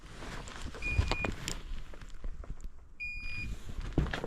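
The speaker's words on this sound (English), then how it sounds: "It's beeping." A faint electronic device gives two short, thin beeps about two seconds apart over a quiet, shuffling background.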